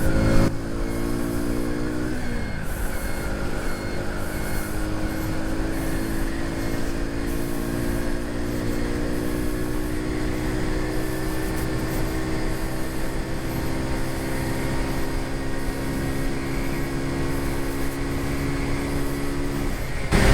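A Runner AD80S motorcycle accelerating in fourth gear on an open road, its engine note climbing steadily and droning loud and near for a long stretch, with wind rush and no speech.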